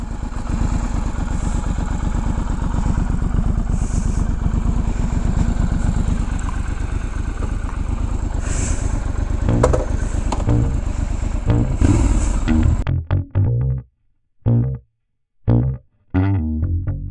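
A 2019 Triumph Scrambler 1200 XE runs with a steady, loud engine drone, then cuts into choppy revving bursts with short gaps toward the end.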